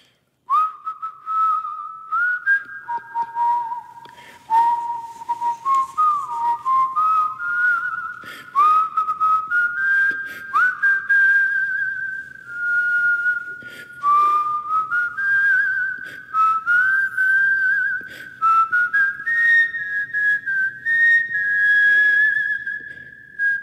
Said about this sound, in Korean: 자 휘파람 나갑니다. 에코 주세요.